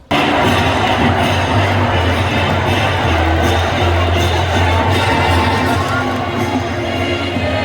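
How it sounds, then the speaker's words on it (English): Stadium crowd at a UVA football game against Maryland cheering loudly and continuously, a dense roar of many voices with scattered shouts and whoops. "Here's a shot of the crowd going crazy."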